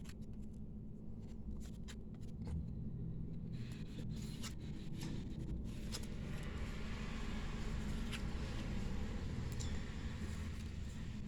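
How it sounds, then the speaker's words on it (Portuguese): Animal-themed tarot cards laid out and flipped on a table, soft rubbing and scattered light taps and slides up close under a low steady background hum. "Agora vamos abrir todas as cartas então."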